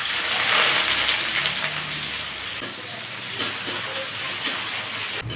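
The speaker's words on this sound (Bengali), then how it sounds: "পেঁয়াজটাকে একটু ভেজে নেব।" Onions fry in hot oil with whole cumin and bay leaves for a banana-flower ghonto, giving a steady, close, bright sizzle with scattered crackles and no talking.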